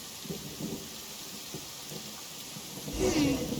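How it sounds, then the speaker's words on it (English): Steady rain hisses throughout, with a low rumble of thunder swelling near the end, in the game Genshin Impact. "It's raining again."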